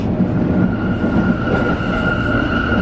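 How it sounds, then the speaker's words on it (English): A London Underground train on the move, heard from inside a roomy carriage near the articulated gangway: a steady, loud rumble with rail hum and a sustained whine running throughout, with no talk. "This is a much roomier train than that other line."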